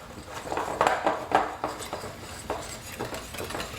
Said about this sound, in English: let's whisk this together